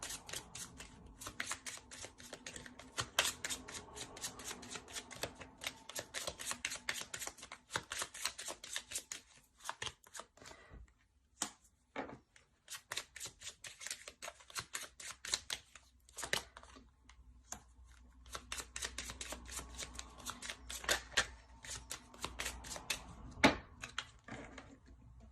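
A deck of tarot cards is shuffled and handled close up in a long run of dense, crisp riffling and slapping bursts, with short pauses between rounds.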